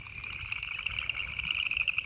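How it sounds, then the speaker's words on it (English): Frogs croak loudly and continuously at a pond, a dense chorus of rapid, overlapping calls holding steady throughout, with no one talking. "I hope that the audio picks up all the croaking, because it's rather loud here."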